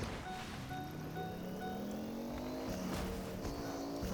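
Car engine from a battle-royale video game, a steady droning hum with rising pitch as the vehicle accelerates, continuous and fairly close throughout.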